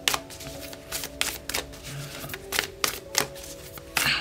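A tarot deck shuffled by hand, giving repeated crisp riffling snaps and papery slaps at an irregular pace, close up and fairly quiet, with no voice.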